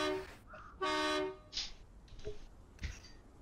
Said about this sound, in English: Don't you honk at me, mister.